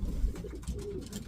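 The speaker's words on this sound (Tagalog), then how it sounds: "Gandang ibon." Low, soft cooing from a Van Loon line pigeon kept by a breeder, a few muffled rolling coos close by with no talking.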